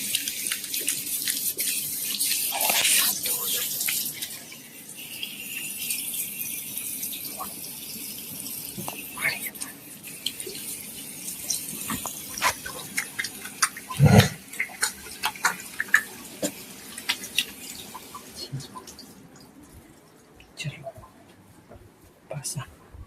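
A tap runs and water splashes in a sink while hands are washed, with a steady rush broken by uneven sloshes and drips, and soft speech continues over the water.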